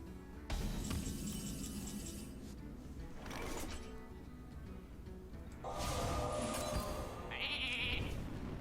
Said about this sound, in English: One of many cute sheep.